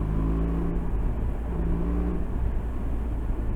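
A low, steady engine drone from a 2022 BMW R1250 RT motorcycle, with rising and falling harmonic bands as the revs climb and settle, heard up close and continuous throughout.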